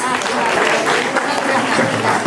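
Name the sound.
audience applause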